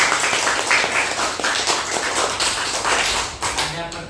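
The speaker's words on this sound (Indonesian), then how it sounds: "tepuk tangan dulu buat kelompok kedua" Classroom audience clapping steadily for a student group, a dense continuous patter of many hands filling the room throughout.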